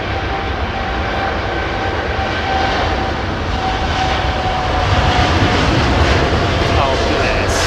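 Steady airplane engine drone as an aircraft taxis on a runway, loud and continuous with a slight swell toward the end, while people talk over it.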